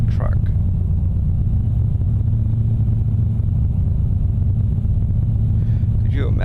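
A truck engine in a modded truck-driving video game rumbles in a deep, steady drone throughout, with a voice talking over it.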